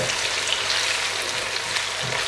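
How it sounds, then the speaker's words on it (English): Onion frying in a pan over medium heat for a chicken saag curry, making a steady, even sizzle of soft crackling hiss, close and continuous, with no talk. "Now cooking the onions out a little bit."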